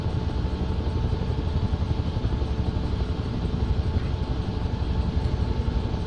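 Single turbine engine of a UH-1 helicopter in the FS2024 flight simulator, a steady, loud whining drone with a faint rhythmic rotor chop, constant throughout without talk.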